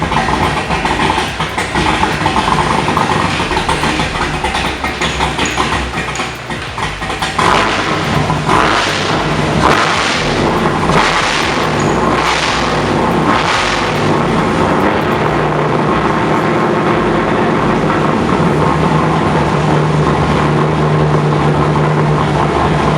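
A drag race car engine runs loudly and steadily after repair, with a few surging revs in the middle and no talking.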